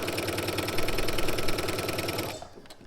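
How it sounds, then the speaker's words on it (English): A sewing machine stitches a band onto a robe in a steady, rapid mechanical whir lasting over two seconds, then stops abruptly near the end, with no talking. "So I'm just going to continue to sew."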